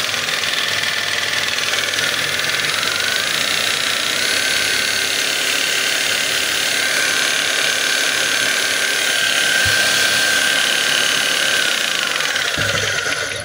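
A steady electric motor of a DeWalt D25901 10 kg electric jackhammer hums and whines continuously at a constant pitch, loud and close, with no talking.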